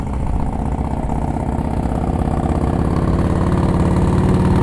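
Motorcycle engine running at low idle during slow-speed riding practice in Ohio, a loud, steady close-up chugging rumble that holds evenly throughout.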